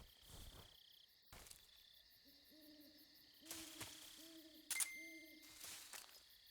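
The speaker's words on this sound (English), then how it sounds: "Just all sorts of birds." Jungle night ambience in a stealth video game: repeated owl-like hoots in short bursts over a steady chorus of crickets and insects, with a couple of brief louder rustles.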